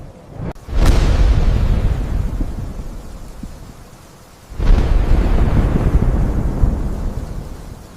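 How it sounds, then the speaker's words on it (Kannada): Two loud thunder cracks, one near the start and another midway, each bursting sharply then rolling into a long deep rumble that slowly fades, with no voices. "ಆ ಅಲೆಗಳ ಶಬ್ದವೇ ಗುಡುಗು."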